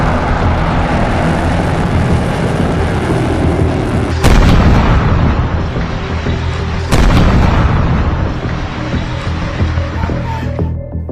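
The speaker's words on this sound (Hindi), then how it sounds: "ईरान के बुशर न्यूक्लियर प्लांट के करीब धमाके शुरू हो गए हैं।" Loud, continuous rumbling barrage with two sudden heavy booms, like artillery fire and explosions, roaring on without pause, near Iran's Bushehr nuclear plant.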